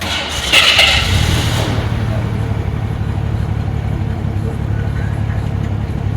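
A VAM Lerma with an inline-six engine runs under way, giving a steady low engine drone and road rumble after a brief louder burst at the start.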